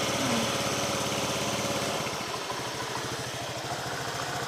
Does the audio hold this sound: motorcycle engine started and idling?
yes